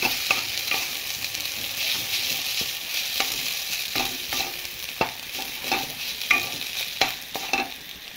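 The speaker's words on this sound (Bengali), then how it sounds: "দিয়ে ম্যাগিটাকে ভালো করে এর সঙ্গে ভেজে নেবো।" Maggi noodles tossed with egg in a hot pan, a steady sizzle broken by repeated sharp spatula scrapes and clacks at an uneven rhythm, close and fairly loud with no talk.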